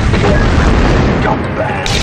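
A missile slams into a ship in the space-combat game Privateer 2, a loud, dense rumbling explosion that fills the whole clip and fades slightly near the end.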